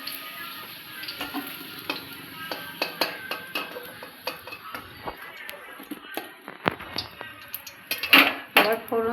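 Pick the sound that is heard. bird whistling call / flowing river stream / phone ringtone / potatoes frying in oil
potatoes frying in oil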